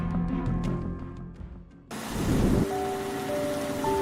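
Rain on a rainy evening starts abruptly as a dense, steady hiss of falling drops, following a quieter stretch of music, with low rumbling underneath.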